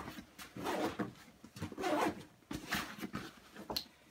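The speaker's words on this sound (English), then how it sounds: "we're going to zip up the Ibex 30." Someone zips up a Vanquest Ibex 30 backpack in several quick, close rasping strokes with short pauses between pulls.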